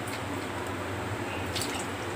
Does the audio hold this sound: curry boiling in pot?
yes